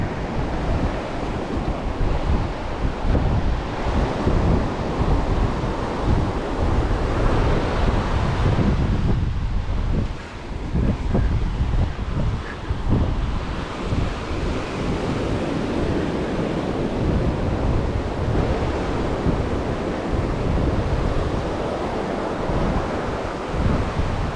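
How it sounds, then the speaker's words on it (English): Ocean waves crash steadily onto the shoreline at Abalone Cove Shoreline Park at high tide, a loud, continuous roar of surf mixed with wind buffeting the microphone, with no voices. "waves crashing right here."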